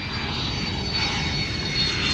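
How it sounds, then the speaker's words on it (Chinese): A steady, loud roar of a fixed-wing airplane's engines at an international airport, continuous and broadband throughout with no voices over it. "刚才广播都说飞机落地了"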